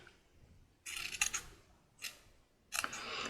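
Scissors cut along the edge of a paper trim in three short, crisp snipping bursts separated by brief pauses, close by and alone.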